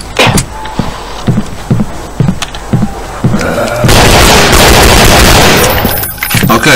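Video game gunfire: a string of sharp, evenly spaced shots, then a loud sustained burst of continuous firing.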